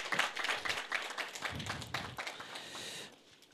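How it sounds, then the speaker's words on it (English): Forum audience at a broadcasting media industry event giving a speaker a round of applause, a short, moderately loud patter of clapping that thins out and fades toward the end. "I think he deserves another round of applause."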